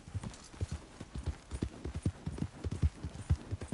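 Galloping horse hooves in a PS4 video game, a quick rhythmic clip-clop of repeated thuds, near and steady throughout with no talk over it.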